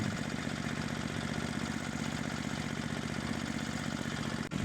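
A snowblower's small gasoline engine runs steadily at high throttle, a loud, even, buzzing drone with a fast regular pulse and no pauses, close to the listener and with no voices over it.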